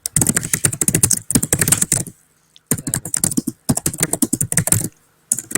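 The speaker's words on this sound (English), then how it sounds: "You are typing loud." Loud typing on a computer keyboard: rapid bursts of sharp, clattering keystrokes in quick runs, separated by short pauses, close and prominent.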